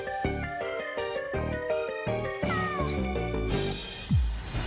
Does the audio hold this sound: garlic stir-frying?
no